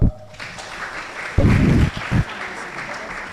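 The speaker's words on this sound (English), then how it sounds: "Please, let's clap for Danso as well" Audience clapping for a student contestant at a school maths quiz final, heard as bursts of applause that swell around the middle and fade, with a busy hall underneath.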